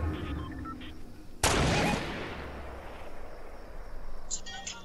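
Fortnite gunfire in a match, a single sharp loud blast followed by a decaying roll, set against quieter game background and faint voice chat.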